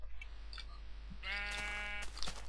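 A Minecraft sheep bleats once, a clear wavering baa rising out of a quiet background after a few soft clicks.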